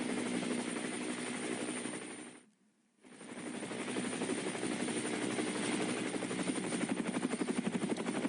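Steady, loud rotor chop of a helicopter following a cycling road race fills the scene, briefly dropping out for about half a second before returning just as strong.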